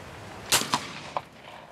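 Shotgun fired at clay pigeon targets on an outdoor shooting ground, a single sharp report followed by a couple of fainter echoing cracks, moderately distant and without talk.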